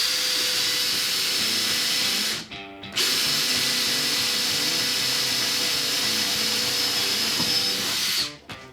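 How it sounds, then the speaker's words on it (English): A loud power drill whirs continuously while pre-drilling through wood and metal in a school bus conversion, briefly stopping and restarting with a short pause, then winding down at the end. "I'm gonna pre-drill through the wood and the metal"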